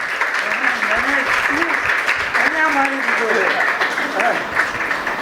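Audience in a hall applauding an honour ceremony, loud sustained clapping from many hands with voices audible underneath.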